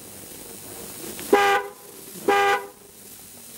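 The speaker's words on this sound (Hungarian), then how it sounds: "előre nyomva pedig a jelzőkürt szól" A Wartburg car horn sounds two steady honks, each about a quarter second long, clear and close, with quiet background between them.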